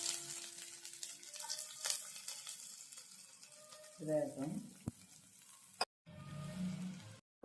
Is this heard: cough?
no